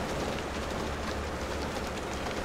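Train in the Farming Simulator 22 video game, a steady rumbling roar with faint rhythmic rail clatter holding at a constant loud level throughout, with no talk.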